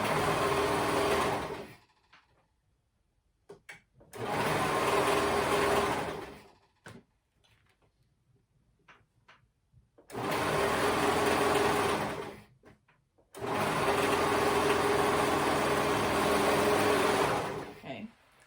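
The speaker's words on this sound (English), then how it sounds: "I'm gonna sew around the outer edge." A sewing machine stitches around the raw outer edge of a cardigan cuff, running in three sustained bursts of steady mechanical whirring separated by quiet pauses with light handling noises.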